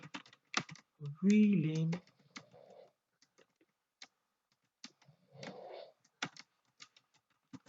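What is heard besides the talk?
typing a command on a computer keyboard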